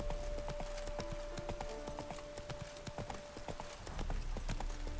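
Rapid clip-clop of horse hooves walking at a steady rhythm in the video game The Witcher 3: Wild Hunt, with a faint tonal hum running underneath.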